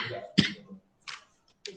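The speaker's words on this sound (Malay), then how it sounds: "Maaf saya batuk sikit." One sharp cough breaks through during a school briefing, followed by a few quiet breathy sounds, close and brief.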